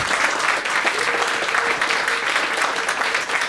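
Sustained audience applause at a Finnish public finance event, dense and steady clapping from a crowd throughout, fairly loud and continuous with no pauses.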